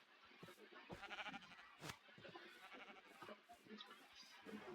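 Sheep bleat in the game Minecraft, several short wavering bleats close by, with faint game sounds between them and no clear speech.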